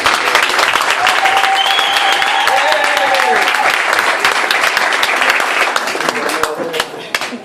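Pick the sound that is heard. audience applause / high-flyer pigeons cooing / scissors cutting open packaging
audience applause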